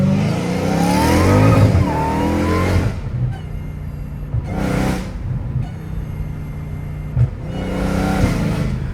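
A straight-piped Dodge Challenger Hellcat Redeye revs hard and loud from close by, two big throttle blips with crackling bursts between them over a steady deep idle rumble, then a third rev near the end.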